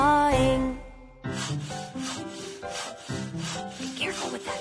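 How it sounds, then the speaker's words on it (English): Wood being sawed in a children's nursery counting song, a run of rhythmic rasping strokes set against a bright melodic backing of music. "10 little elves are sawing."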